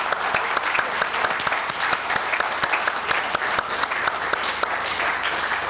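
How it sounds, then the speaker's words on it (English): An audience at an alumni career panel gives the panelists loud, continuous applause, many hands clapping close and dense throughout without a break. "So, a round of applause for our panelists."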